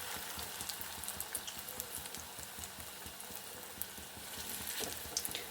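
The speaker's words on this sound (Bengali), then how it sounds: "আমি ছোট ছোট করে আর হচ্ছে বড়াগুলো ভেজে নেব" Soybean kofta balls deep-frying in oil over a low flame, giving a faint, continuous fine crackle like light rain, steady throughout, with no voices.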